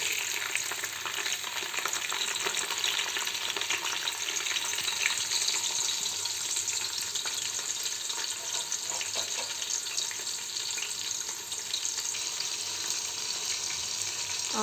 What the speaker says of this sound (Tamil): ஆனியன் நல்லா வதங்கணும்